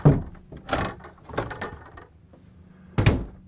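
The double doors of a Norcold refrigerator in a 2019 Forest River FR3 Class A motorhome are opened, giving a few close clunks, seal pops and handling knocks spread over a few seconds.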